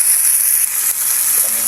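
Meat for spicy Filipino menudo frying in a hot pan, a loud, dense, continuous sizzle close up that holds steady throughout with only a brief dip.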